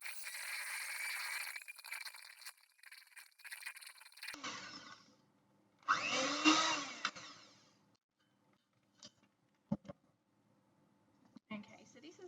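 An electric beater creaming butter and sugar in a bowl, a buzzing, rattling whir running for a few seconds, stopping, then starting again briefly, with scattered knocks and scrapes afterward.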